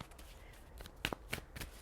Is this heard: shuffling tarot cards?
yes